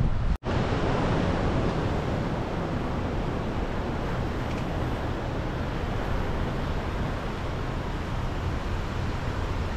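Ocean surf at Daytona Beach, Florida, a loud, steady wash of breaking waves mixed with wind buffeting the microphone, continuous throughout with a momentary dropout at the start.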